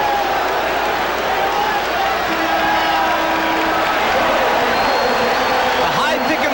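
A packed basketball arena crowd at a 1993 NBA playoff game between the Hornets and Celtics roars loudly and steadily after a hard foul, with a swelling, sustained wash of shouting and cheering that fills the whole clip.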